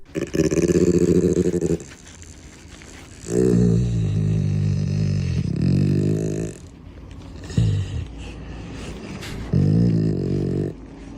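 A dog growls in long, deep, rumbling bursts while its ears are being cleaned, loud and close, with short pauses between growls and no talk.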